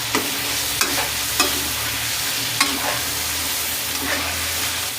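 Ginger garlic paste frying with chicken in a karahi, a continuous close sizzle broken by a few sharp spoon scrapes and knocks against the pan.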